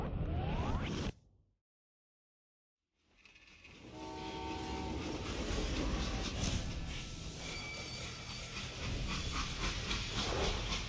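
A steam locomotive train from the video game Red Dead Redemption 2 rumbles and hisses loudly with rolling wheel noise and a horn-like tone, cutting to silence briefly before resuming as a sustained, close, steady roar.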